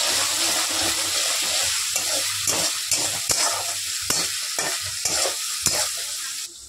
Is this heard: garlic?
yes